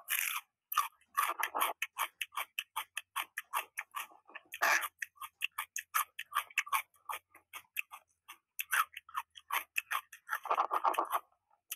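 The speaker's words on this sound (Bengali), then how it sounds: "ওটির ভিতর থেকে তরকারিগুলো আমি খাচ্ছি।" Raw vegetables being bitten and chewed up close, a long run of sharp crisp crunches in a quick irregular rhythm with short pauses, loud and alone with no talk.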